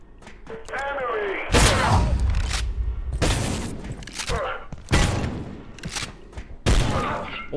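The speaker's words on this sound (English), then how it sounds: "I wasted 60 shotgun shells." Four heavy shotgun blasts boom out at roughly even intervals from the video game Abiotic Factor, each a loud, sharp crack with a rumbling tail, spaced a second or two apart.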